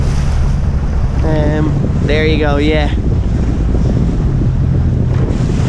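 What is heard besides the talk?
sea waves and wind while sailing upwind in swell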